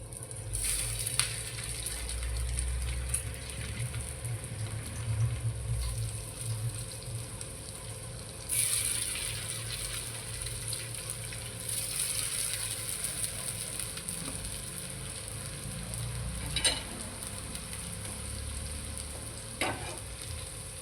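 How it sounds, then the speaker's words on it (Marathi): Taro leaf rolls (alu vadi) fry in oil on a hot griddle, giving a steady soft sizzle with occasional crackles and scraping stirs, fairly quiet, with no speech. "आता मी ह्या फ्राय करून घेते ते पण तुम्हाला दाखवते"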